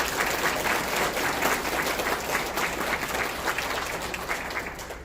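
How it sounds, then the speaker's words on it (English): Audience at a Learning Center graduation ceremony applauding the staff, a dense, steady round of clapping from many hands that holds at full strength throughout. "we should give them a round of applause"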